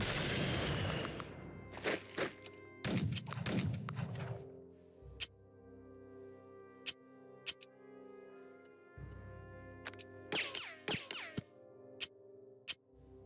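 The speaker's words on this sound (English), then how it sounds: "Next phase, mass bombing run." A mass bombing run strikes in the Unity of Command 2 strategy game, with several rumbling explosion bursts early and again near the end, separated by sharp clicking ticks and quieter stretches.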